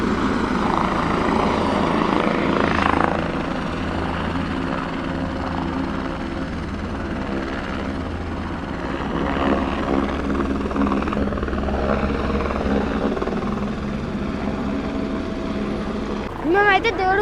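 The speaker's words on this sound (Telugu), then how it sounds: "ఇంత దగ్గరికి నేను ఎప్పుడు చూడలేదు హెలికాప్టర్ని" A helicopter flies close by near Kedarnath during heavy rain, its rotor giving a loud, continuous throbbing chop that holds steady throughout, while people talk over it.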